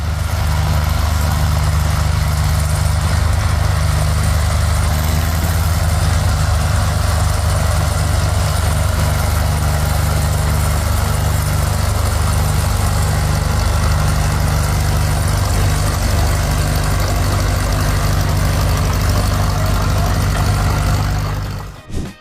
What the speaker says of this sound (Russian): На подмогу своему колесному коллеге приехал гусеничный трактор Fordson County.